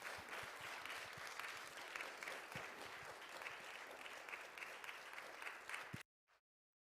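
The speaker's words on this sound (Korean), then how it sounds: "우리 장로님 나오실 때 힘찬 박수로 맞이하도록 하겠습니다" A church congregation at a midweek evening service claps loudly to welcome a church elder to the front, a dense and steady round of applause that stops abruptly after about six seconds.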